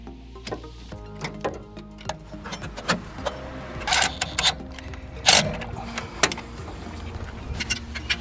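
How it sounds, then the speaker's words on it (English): DeWalt 20-volt cordless ratchet tightens alternator bolts on a Honda Civic: short bursts of whirring ratchet drive, several separate pulls with clicks and pauses between them, fairly close in a quiet workspace. "we'll use our DeWalt 20-volt ratchet to tighten up the"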